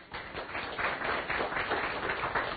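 Audience applauding after a talk on measuring patient-reported outcomes, a dense steady wash of many hands clapping at moderate loudness, with no talk over it.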